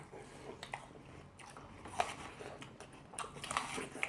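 A whole apple, washed with its peel on, is bitten and chewed close up, giving a few crisp crunches between softer, wet mastication sounds with no talking.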